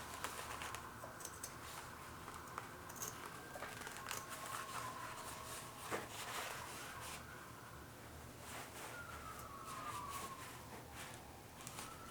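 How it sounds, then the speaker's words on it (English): Distant police sirens wail faintly outside, rising and falling under a patter of background noise and occasional bird calls. "I left the door open, you'll be able to hear the sirens maybe"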